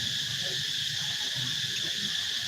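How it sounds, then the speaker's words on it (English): Steady, dense insect drone of cicadas in Siem Reap, Cambodia, a continuous high-pitched buzz holding at an even loudness throughout, fairly close and loud, with no voices over it. "the cicadas are they are noisy, but I love the sound of them"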